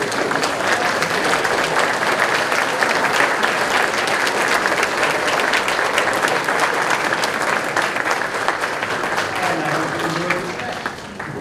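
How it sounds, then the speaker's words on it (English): A standing audience at a high school scholar awards ceremony claps for teachers, dense sustained applause filling the room at full strength before tapering slightly at the end. "Do me a favor and stand, and let's applaud the great teachers of Northern Burlington."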